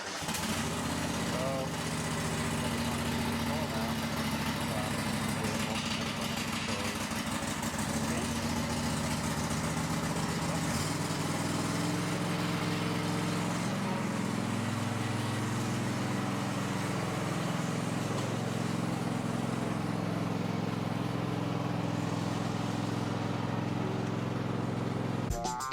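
A ride-on lawn mower engine runs steadily at close range with a continuous mid-pitched drone, while someone talks over it throughout.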